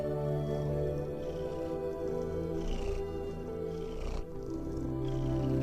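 Low, steady purring from a cat in a cosy cafe setting, a continuous soft rumble that runs close and unbroken for the whole stretch with no voices over it.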